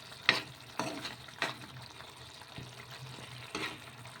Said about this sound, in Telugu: వేసుకొని ఒకసారి బాగా ఈ విధంగా కలిపేసుకొని కొంచెం దగ్గర పడే వరకు ఉడికించుకోవాలి